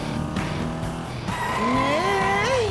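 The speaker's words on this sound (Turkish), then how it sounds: "Bu minik araba sesleri minik arabadan geliyor." Small toy-like cartoon car revving with rising and falling engine whine and tire squeals, close and loud over a busy animated soundtrack.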